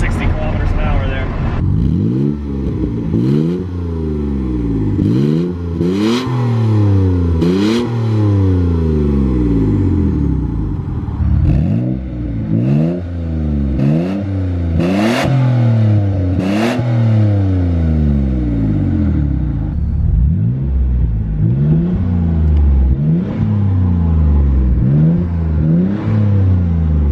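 A Mitsubishi GTO engine revs hard and climbs through the gears toward high speed on open streets. The loud, close sweeps rise repeatedly, each one cut by a gear change, and the drone carries on without a break for the whole stretch.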